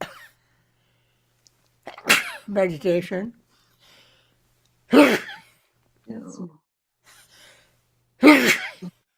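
Three sharp sneezes spaced a few seconds apart, loud and close, with a person speaking briefly between them.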